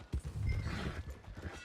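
A horse in Red Dead Redemption 2 gives a short, low snort or whinny with a hoof thud at the start, close and fairly quiet over faint game ambience.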